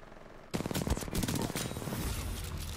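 A Spitfire light machine gun in Titanfall 2 opens up after a short quiet start, a loud, rapid, continuous rattle of fire that keeps going to the end without any voices.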